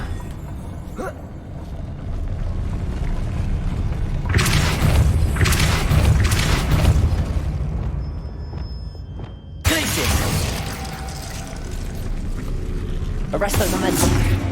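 Depulso spell cast in Hogwarts Legacy: loud, booming blasts with shattering, crackling bursts over a dense rumbling game backdrop, one big impact in the middle and another surge near the end.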